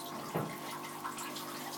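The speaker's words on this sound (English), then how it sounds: "You can see the water rushing through the pipes." Water from an ordinary garden pump rushing through pipes into aquaponics grow beds, a faint steady hiss and trickle with one brief louder gush.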